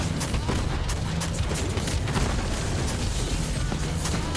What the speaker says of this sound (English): It's hard to hear the music because of the gunshots.